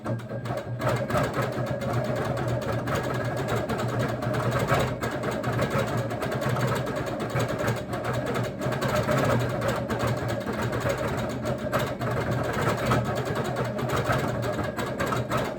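A longarm quilting machine stitches ice-dyed fabric in cruise mode at about 14 stitches per inch, a steady mechanical hum and rapid needle rattle running continuously at moderate volume.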